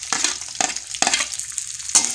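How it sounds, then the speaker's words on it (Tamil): Finely chopped onions sauté in hot oil with curry leaves while being stirred, a steady sizzle broken by four sharp scraping stirs of the spoon against the pan. "அது வரையும் வெங்காயம் நல்லா வதங்கட்டும்"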